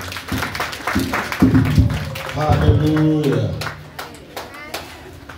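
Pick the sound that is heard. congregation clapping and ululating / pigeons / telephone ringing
congregation clapping and ululating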